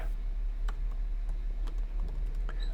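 Light, irregular clicks of keys typing a command on a computer keyboard, fairly faint against a steady low electrical hum, with no voices.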